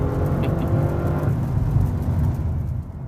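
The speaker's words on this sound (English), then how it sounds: "when you lift or when you downshift, you get these nice backfires from the exhaust" A 2014 Audi RS7 sedan with sport exhaust rumbles low and loud on a lift-off or downshift, with sharp crackling backfires through the exhaust, then the engine note drops away.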